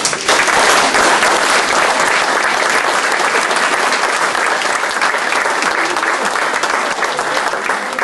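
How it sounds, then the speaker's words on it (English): A crowd at a West Laurel civic association meeting gives a loud, steady round of applause for Mr. Baker, sustained and even throughout with no talking over it. "Would you give him a round of applause?"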